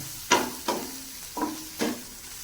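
Onions sautéing in a pan with salt and a pinch of turmeric, heard as four separate sharp scraping strikes from stirring, each with a short ringing tail and quiet gaps between them.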